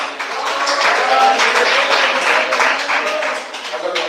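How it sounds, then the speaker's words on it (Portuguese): Church congregation applauding in a broad, steady wash of many hands clapping, sustained and fairly loud throughout, with no clear voice rising above it. "Debate mais palmas."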